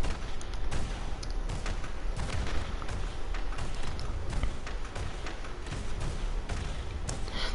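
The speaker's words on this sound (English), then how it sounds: "We gotta watch the explosions." Dense, continuous gunfire and blasts from The Division shooter game, a loud chaotic barrage of sharp cracks and booms with no pause across the stretch.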